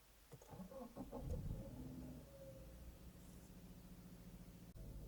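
A car engine cranks with a few quick starter clicks and catches, then settles into a steady, close idle hum that runs quietly to the end.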